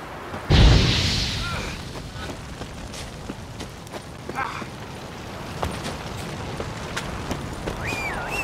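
A loud burst at the start as the Igni fire sign is cast in The Witcher 3, a sharp whooshing flare that decays over about a second, followed by quieter ambient game sounds and faint clicks.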